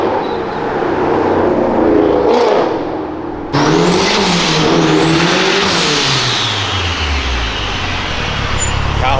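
A Porsche engine revving hard and accelerating on a street, loud and close, with rising and falling pitch sweeps and a sharp gear change partway through.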